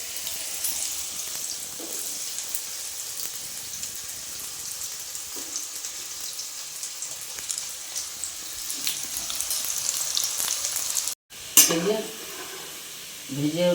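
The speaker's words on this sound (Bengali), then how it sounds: "প্রথমে আলুগুলো ভেজে নিচ্ছি, একদম ছোট ছোট করে কেটেছি" Small-cut potatoes fry in oil for a poppy-seed dish, a steady, fairly quiet hiss and sizzle that runs on, then cuts out briefly before a clatter of utensils near the end.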